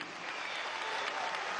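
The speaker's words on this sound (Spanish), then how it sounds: "Desde aquí vamos a darle un aplauso a Delcy Rodríguez." Audience applause for Venezuelan vice president Delcy Rodríguez at a political gathering, a brief, distant, steady wash of clapping heard faintly.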